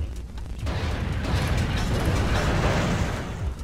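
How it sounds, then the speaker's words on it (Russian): A twin moving cannon fires in the Descent 3 video game on a moon level, a dense continuous barrage of booming explosions and bursts that stays loud for several seconds, with no talk. "Этой пушке нужно немного времени, чтобы перезарядиться"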